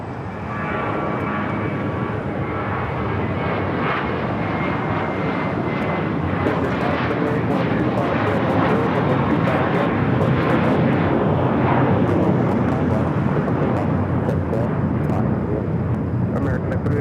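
Airliner engines at Los Angeles airport, a loud, broad, steady roar that swells slightly as it goes, with crackling radio chatter from air traffic control over it.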